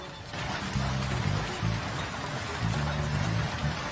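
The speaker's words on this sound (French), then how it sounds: "En Australie, d'impressionnantes chutes de grêle touchent l'État du Queensland." A hailstorm in Queensland, Australia pounds down in a dense, continuous roar, with low rumbling thuds underneath; steady and loud throughout.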